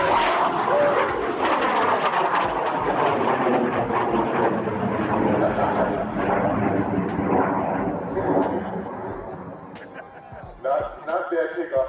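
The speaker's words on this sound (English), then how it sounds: "Not bad takeoff for a 180-pound rocket." Large 180-pound model rocket lifting off, flown toward supersonic speed: a loud, broad roaring rumble that fills most of the clip and fades slightly toward the end, with people's voices and reactions heard over and after it.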